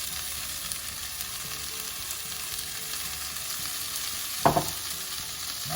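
Ground spice paste frying with onions in hot oil for a pepper and cashew nut chicken curry, a steady close hiss with a brief sharp spatter burst near the end, no voices.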